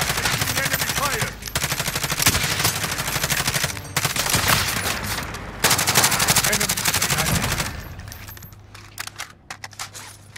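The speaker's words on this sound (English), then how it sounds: "Enemy fire. Enemy fire." Rapid automatic gunfire bursts out in a video game, with dense rattling volleys broken by short pauses, ending in scattered single shots and faint voices.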